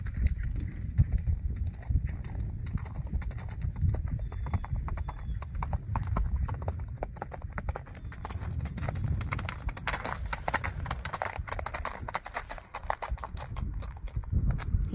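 Hooves of a five-year-old registered Tennessee Walking Horse clip-clop steadily while it canters on flat ground, a continuous close rhythmic drumming with a brief whinny-like voice mixed in.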